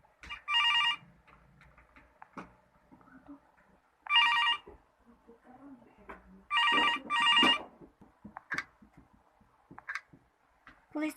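An old-style telephone rings through to a police department in short bursts, a single ring then a double ring, with quiet rustling and small noises between.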